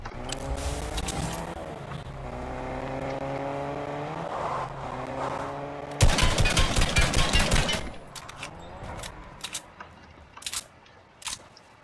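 A car in the Fortnite video game drives close by with a rising and falling engine whine, then a sharp burst of rapid gunfire cuts in, followed by scattered single shots.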